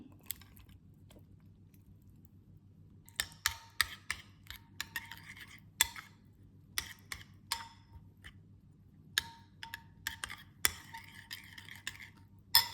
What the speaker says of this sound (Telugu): దాని తర్వాత చింతపండు గుజ్జు అందులో కలిపి మిక్స్ చేస్తాను